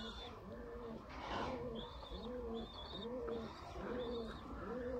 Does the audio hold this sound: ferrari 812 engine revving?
no